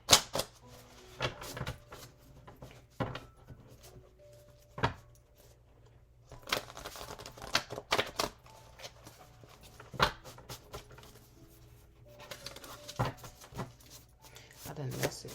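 Tarot cards shuffled by hand in irregular bursts of crisp riffling and tapping, with quiet stretches between, close and fairly soft against a faint steady background hum.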